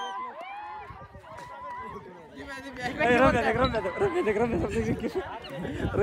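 A local village cricket team cheering after winning a match, an excited crowd of shouting, whooping voices that swells louder partway through and stays lively to the end.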